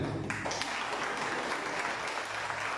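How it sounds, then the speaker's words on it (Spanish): A church congregation at a worship service applauds in a steady, fairly distant round of clapping lasting a few seconds, with faint background sound underneath. "Y si quieren, aplaudan por mí."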